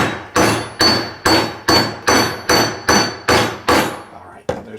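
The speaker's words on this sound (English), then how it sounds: "I'm going to go ahead and tap this bearing a little," Hammer tapping a wheel bearing through a nylon piece, nine or so evenly spaced sharp strikes about half a second apart, loud and close, with a final lighter tap after a brief pause.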